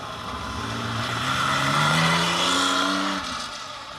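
Porsche rally car on a stage of the Anglo Caledonian Rally, its engine rising in pitch as it accelerates past at moderate distance, then fading as it moves away.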